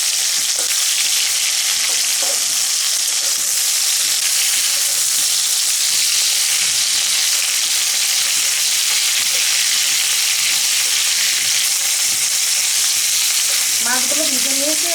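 Golda chingri prawns frying in hot oil, a loud, dense, continuous crackling sizzle close by, unbroken for the whole stretch, with a faint squeaky scrape near the end and no talking.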